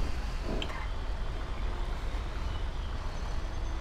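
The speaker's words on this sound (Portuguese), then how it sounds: "Vou deixar meu caminhão aqui, velho." A truck in the GTA 5 video game rumbles steadily as it pulls in to park, with a constant broadband engine drone and a faint hiss.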